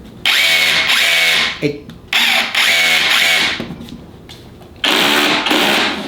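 A Festool cordless hammer drill runs in hammer mode in three loud bursts with a rapid, rattling hammer action, separated by short pauses, close by.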